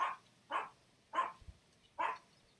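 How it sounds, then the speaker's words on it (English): A dog barks in the background, four separate woofs spaced about half a second apart. The barks are faint and distant, with short quiet gaps between them and no talking. "That's my dog Wally in the background woofing"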